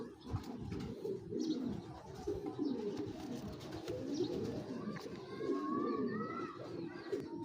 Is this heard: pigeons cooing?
yes